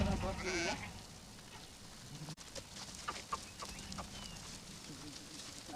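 A pregnant sheep bleats close by near the start, and people talk over faint outdoor background noise.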